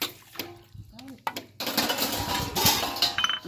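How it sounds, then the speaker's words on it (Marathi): Dishes, pots and pans being scrubbed and washed by hand at home during festival cleaning, with clattering metal and running water building loud and steady after a brief quieter stretch, a voice speaking briefly near the start. "2-3 तास झालं बघा भांडी घासायला लागले ते"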